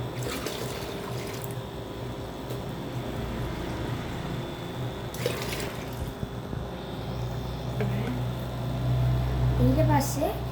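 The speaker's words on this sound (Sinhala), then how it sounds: "මුලින්ම අපි මේකේ වතුර ටික අඩු කරගෙන" Water from a goldfish tank drains and trickles with a steady splashing wash, gurgling louder toward the end, alongside a faint background hum.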